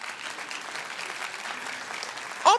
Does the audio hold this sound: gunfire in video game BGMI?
no